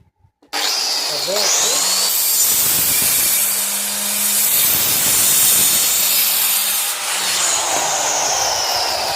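A power saw cuts a mica laminate sheet for a door in one loud, steady, continuous run of about eight seconds, with a brief dip near the end.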